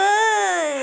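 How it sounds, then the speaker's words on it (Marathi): A baby wails in one sustained, high-pitched cry that holds steady, then breaks off at the end. It is close and loud, with no other voices. "जेवायच्या टायमालाच रडत"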